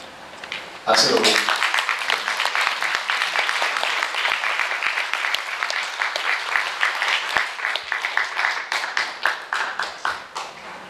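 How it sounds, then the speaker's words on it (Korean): Sustained audience applause at a gathering at the National Assembly Constitution Memorial Hall in Seoul, starting abruptly after a second and continuing as dense clapping throughout, with a few brief voices mixed in. "박수로."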